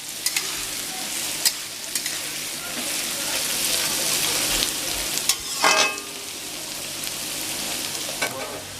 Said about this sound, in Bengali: কেটে রাখা পেঁয়াজ আর চিড়ে রাখা কাঁচা লঙ্কাগুলো দিয়ে দেব। সব উপকরণগুলি একসঙ্গে নাড়াচাড়া করে নেব।